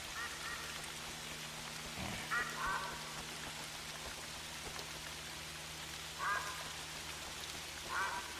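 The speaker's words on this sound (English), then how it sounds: "there comes some ducks" Ducks on water in the game theHunter: Call of the Wild on a Scotland map give short bursts of quacking at a moderate distance over a steady patter of rain.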